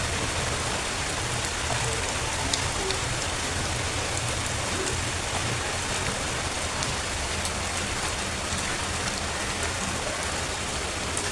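Heavy rain pours down in a dense, even hiss with scattered louder drops striking nearby surfaces, continuous and close throughout, with no talking.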